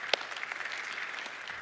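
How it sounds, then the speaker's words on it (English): Short burst of audience applause in a church, a soft scattering of clapping hands heard at a distance for under two seconds. "Yeah, that's worth clapping about."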